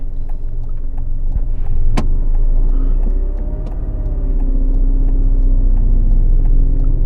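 A learner driver's car engine rumbles steadily at close range, with a sharp click near the two-second mark and a low, continuous drone that dips briefly before building again.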